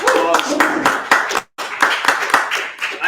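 A small group claps at a tech summit in irregular bursts of individual hand claps, close and fairly loud, with a brief pause midway before the clapping resumes.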